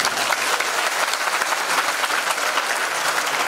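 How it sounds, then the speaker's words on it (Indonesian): An audience at a university special lecture breaks into dense, sustained applause, many hands clapping together at a strong, even level throughout, with no talk over it. "Tepuk tangan untuk kita."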